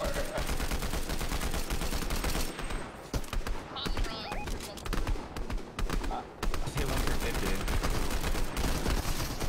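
Sniper and other gunfire in an online shooter game, with repeated sharp cracks and bursts over a dense, busy battle mix, shots coming steadily throughout while players talk over it.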